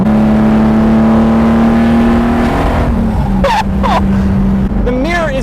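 A Lamborghini Jarama engine hums steadily up close with a rising note partway through, mixed with a voice talking over it.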